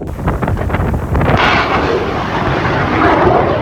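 An Osa surface-to-air missile launching at the front line: a sharp blast followed by a loud, sustained rushing roar of the rocket motor, close and harsh with wind buffeting.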